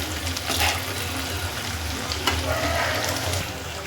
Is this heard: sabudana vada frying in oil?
yes